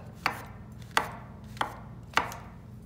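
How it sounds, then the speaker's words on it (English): A knife slices king oyster mushrooms on a cutting board in four crisp, evenly spaced chops, close and clear over quiet room tone, with no talking. "What I do is I cut the bottom part of the mushroom off just because it's dried up, and then I just slice it."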